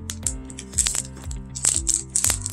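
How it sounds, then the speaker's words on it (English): Foil Pokémon Shining Fates card pack being pulled and twisted open with difficulty, close crinkling and crackling in several short bursts, no talking. "I cannot open these packs for the life of me."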